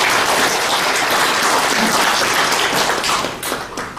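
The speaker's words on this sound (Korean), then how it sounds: "한꺼번에 축하의 박수" Audience applause at a Korean commemorative ceremony marking a news outlet's 22nd anniversary, dense and steady across the whole stretch, then thinning slightly near the end.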